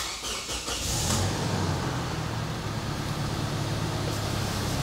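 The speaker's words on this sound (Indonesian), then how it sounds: "Saya akan nyalakan mesinnya." A car engine cranks and starts, with short starter bursts at first, then it settles into a steady low idle that carries on alone.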